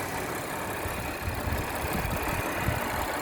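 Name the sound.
Audi car engine running quietly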